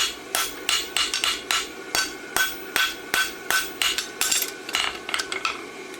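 Hammer blows ringing on a horseshoe being forged for a blacksmith competition, a fast run of sharp metallic strikes in an uneven rhythm, loud and close, with no voices.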